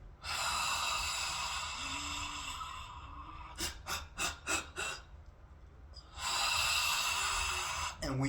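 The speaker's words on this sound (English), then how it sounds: "Dragon's breath, where you can take 3 to 4 deep, hard breath in," Dragon's breath exercise: a person takes a series of deep, hard breaths, with long forceful rushing exhales and a quick burst of several sharp snorting breaths in the middle, close and loud.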